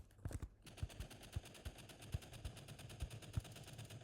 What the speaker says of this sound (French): faut que je tire